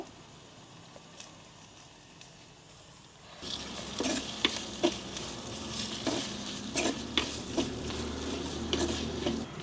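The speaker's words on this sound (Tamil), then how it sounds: "இப்போ வெங்காயம் பாருங்கள் நல்லா வதங்கிட்டு" Salted onions sauté in a pan, a quiet start giving way to a continuous close sizzle punctuated by repeated scrapes and knocks of a stirring spoon against the pan.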